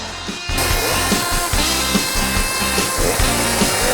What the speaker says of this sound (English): I'm still trying to figure out how to hold the chainsaw correctly